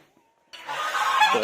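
Domestic geese honk loudly and continuously at close range, a dense run of harsh calls that bursts in after a brief near-silent start.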